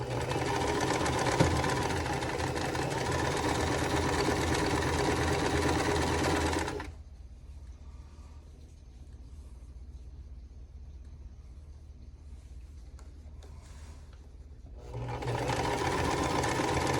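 A sewing machine stitches quilt block pieces together in a steady, loud mechanical whir for several seconds, stops into a quiet pause with faint handling, then starts running again near the end.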